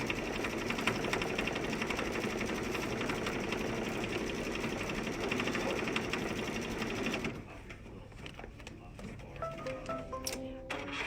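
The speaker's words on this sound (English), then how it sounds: "the next thing that the machine is programmed to do is our satin stitching" A programmed embroidery sewing machine hums loudly as it stitches continuously for about seven seconds, then stops, leaving quieter room sound with light clicks and faint tones.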